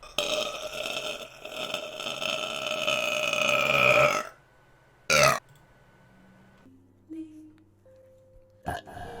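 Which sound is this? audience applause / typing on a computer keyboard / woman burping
woman burping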